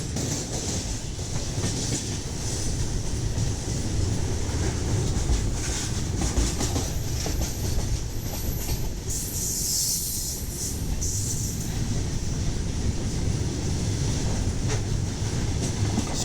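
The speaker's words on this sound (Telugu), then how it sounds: "గూడ్స్ ట్రైన్ రాళ్ళు రప్పలు తీసుకొని అయితే వెళ్తున్నాడు" A goods train loaded with stones rolls past on the rails near a station, a loud, continuous rumble with rattling wagons and faint clacking of the wheels.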